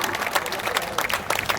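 Brief burst of dense audience applause at a Hindi poetry conference, a steady wash of many hands clapping with faint voices mixed in.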